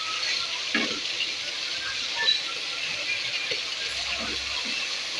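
Potatoes frying in a pan, stirred and turned with a utensil, giving a steady close sizzle and hiss with a few soft scrapes and knocks throughout.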